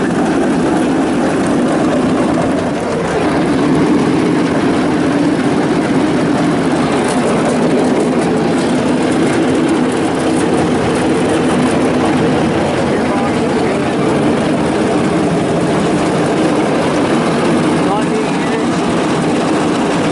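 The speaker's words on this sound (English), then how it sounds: "Go ahead, Matt, fire that up, put the PTO in." A Ford CC55VA tractor drives a three-point-hitch flail mower through its 540 PTO shaft, giving a loud, steady heavy engine drone with broadband mechanical roar that holds for the whole stretch without letup.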